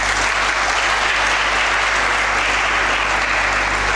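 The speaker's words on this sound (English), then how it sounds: "So I would request all of you to clap for yourselves." Participants at an English speech competition clap for themselves, a continuous, loud, even wall of applause from a large room full of people, with no pauses.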